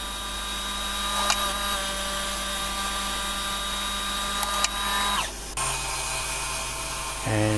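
A small CNC lathe parting off a workpiece at 3000 RPM, a loud steady machine whine with sustained tonal cutting squeals that shift in pitch and cut off sharply as the part separates.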